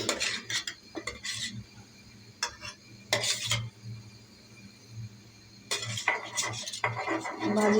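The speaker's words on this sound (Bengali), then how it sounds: "ভাজি করা মাছগুলো দিয়ে দিচ্ছে।" Fried fish pieces go into a pan and get stirred, with a utensil clattering and scraping against the metal in loud, irregular bursts separated by quieter gaps and a low steady hum.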